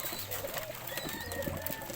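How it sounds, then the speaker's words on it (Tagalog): Soft, low cooing from hungry pet pigeons close by at feeding time, layered over faint background noise. "yung ating mga alagang kalapati"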